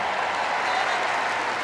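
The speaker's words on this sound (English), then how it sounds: "Here we go, cheer them home." A crowd at a Kennel Club dog agility and jumping competition cheers and applauds, producing a dense, continuous wash of clapping and voices at steady loudness.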